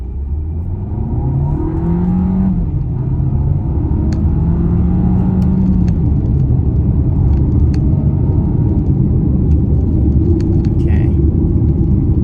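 A car drives along with a steady, loud engine rumble in manual gear mode, pitch rising and falling as gears change, near and continuous, with a person talking over it.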